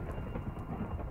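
Steady rain falls in a Minecraft-style block game, a dense, even hiss with low rumbling underneath and no voices.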